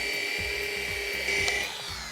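Machine polisher runs at slow speed with medium pad pressure, buffing car paint with Autoglym Paint Pro, a steady whirring hum with a slight rise midway, close and moderately loud with no talk.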